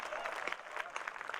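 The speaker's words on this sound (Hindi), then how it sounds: "बजाओ ताली।" Steady applause from a Hindi hasya kavi sammelan audience at a comedy poetry festival, a dense continuous patter of clapping sustained throughout, with faint crowd murmur.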